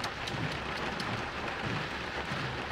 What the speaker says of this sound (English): Rain won't stop